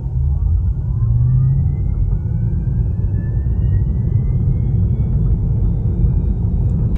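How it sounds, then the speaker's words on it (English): A 2019 Tesla Model 3 drivetrain pulling away from a standstill gives a faint, slowly rising electric whine that sits above a loud, constant low cabin and road rumble, with no speech. "the drivetrain has this very slight whining noise when you set off from a standstill"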